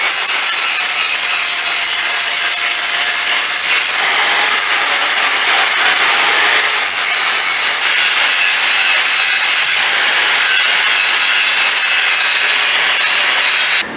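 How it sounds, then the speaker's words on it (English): Metal parts being ground down to matching size for a car's suspension and rear-end work, a steady, loud abrasive rasping that runs without a break, alone with no talk. "So we're gonna grind them, make them all the same."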